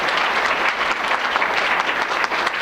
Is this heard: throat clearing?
no